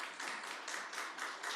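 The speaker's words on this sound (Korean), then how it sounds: "아예 박수로 환영하겠습니다." A church congregation claps to welcome new members at a Sunday morning service, a brief burst of applause that pulses in several quick waves, moderately close and without any voices over it.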